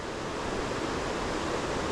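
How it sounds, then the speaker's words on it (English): Water tumbling over rocks in a stream below a wooded overlook, a steady, even rushing wash heard from a distance with no voices. "various areas where the water's tumbling over the rocks"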